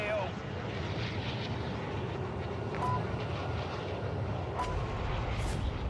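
A helicopter whirs in the shooter video game Call of Duty Warzone, a fairly faint, continuous rotor drone with a few sharp gunfire-like cracks cutting through it.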